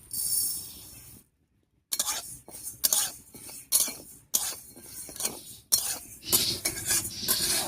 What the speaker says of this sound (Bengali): এবারে শুকনো খোলায় মুগ ডালটা একটু ভেজে নেব।